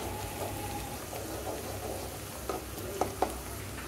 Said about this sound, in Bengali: পেঁয়াজ কুচিগুলোকে হালকা ভেজে নিব।